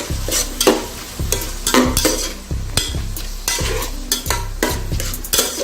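Chopped onion and tomato stirred in a pan, loud close sizzling broken by rhythmic scraping strokes of a spoon, roughly one every half second.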